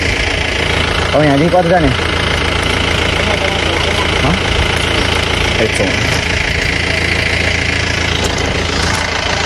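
A motorbike engine idles steadily at close range, a low rumbling drone that runs through the whole clip while people talk over it.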